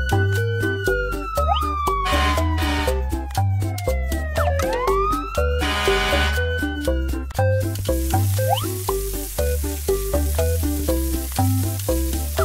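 A wailing siren sweeps up and down over a bouncy rhythmic music track with steady beats, sounding like a cartoon fire engine.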